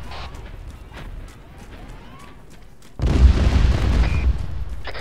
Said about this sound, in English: Careful, artillery's hidden.